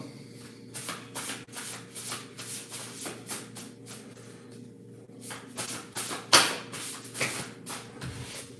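Tarot-style cards being shuffled and drawn by hand, producing a quiet, steady rhythm of soft riffling swishes and taps close by, with one sharper slap near the end.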